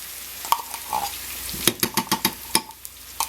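Tomato paste cooking in a pan with peppers, onion and garlic, a soft sizzle broken by a series of close scraping and stirring knocks from a utensil against the pan.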